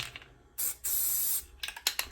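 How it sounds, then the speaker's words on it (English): Short hissing bursts of a metallic gold spray paint can nozzle, one long spray followed by a few quick puffs, close by and fairly quiet. "Spray out the nozzle on this little puppy."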